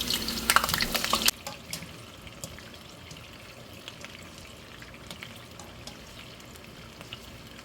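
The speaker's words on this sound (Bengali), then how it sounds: "ছোট করে টুকরো করে কাটা আলুগুলো একটু ভেজে নেব" A loud, crackling burst opens, then small cut potato pieces sizzle softly and steadily in hot mustard oil with occasional faint pops.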